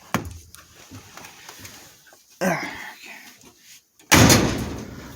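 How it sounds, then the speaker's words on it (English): Car doors are shut in a vehicle undergoing a body swap: two firm slams, one midway and a louder, heavier one near the end, with smaller clunks and rustling around them and no talking. "The doors still close like they always have"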